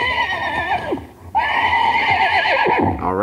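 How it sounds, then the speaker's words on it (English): A recorded horse neigh played back through a Google Home smart speaker, a loud whinny with a brief pause partway through, heard alone with no talk. "This is a horse."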